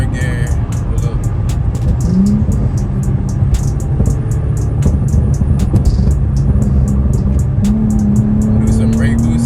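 Infiniti Q50 on E85 fuel pulling hard in third gear, a loud continuous engine roar with rising tone, close and dominant throughout, with a voice speaking over it.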